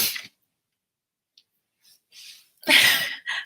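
A single sharp sneeze bursts out close by after a long quiet stretch, followed by a short breathy tail.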